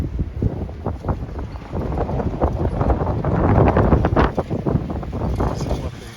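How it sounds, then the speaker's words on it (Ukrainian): Strong wind buffets the microphone in loud, rumbling gusts that rise and fall continuously, with faint rattling underneath, outdoors near a spinning home wind turbine. "Вітер сьогодні дуже сильний."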